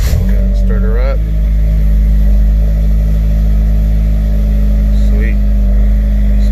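A tuned car's engine idles with a steady low rumble and a brief rev near the start, with people talking over it throughout.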